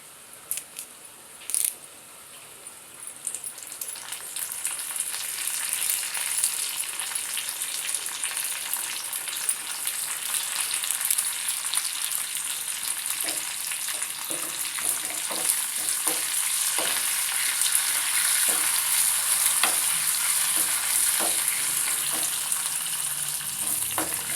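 Washed curry leaves crackle and spit in hot oil in a pan while tomato dal is being made. The sizzling is steady and close, with sharp pops and metallic clinks from stirring.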